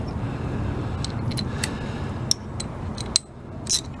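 Bolts are tightened during a 12 volt generator installation, with a few sharp metallic clicks and ratchet ticks standing out over a steady mechanical hum.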